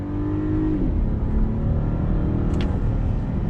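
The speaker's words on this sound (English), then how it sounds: "So you're getting a decent sound out of the V6, you know, nothing too crazy. Doesn't sound buzzy, which is nice." A 2021 VW Atlas Cross Sport V6 with an 8-speed gearbox pulls hard on throttle, its engine note droning steadily and loud from close range, with a brief whine rising near the end.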